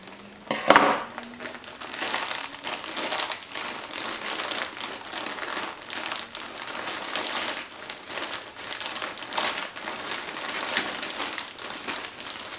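Plastic packaging around sports jerseys is torn open and crinkled, with a sharp rip near the start followed by a long stretch of dense crackling and rustling handled up close.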